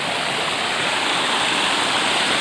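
A waterfall, seen in full flow beside a hillside path, pours in a loud, steady broadband roar that holds unbroken throughout with no voices.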